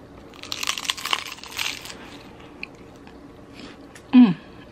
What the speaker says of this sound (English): I dipped it in sour cream, but I want y'all to hear this crunch.